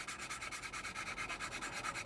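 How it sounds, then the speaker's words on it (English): Hand sanding of filler on a 1/48 scale Airfix BAe Hawk T1 plastic model kit, a close, rapid, rhythmic rasping of back-and-forth strokes repeating steadily without pause. "We don't really want to start really sanding into the actual plastic, just the top layer of filler."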